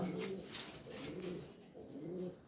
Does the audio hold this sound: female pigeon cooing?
yes